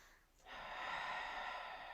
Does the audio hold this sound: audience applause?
no